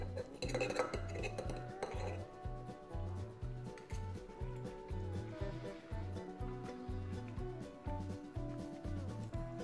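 Plates and cutlery clink steadily while spaghetti with zucchini and mackerel is plated, with light metallic taps and scrapes over a repeating musical bed.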